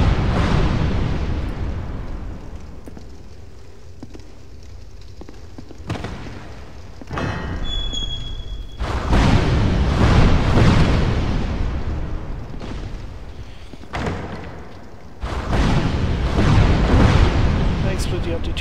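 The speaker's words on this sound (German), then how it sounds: "Da explodiert die Tür." Door exploding in Dark Souls 2, several heavy booming bursts with crackling decay spaced through a tense game soundtrack, loud and near.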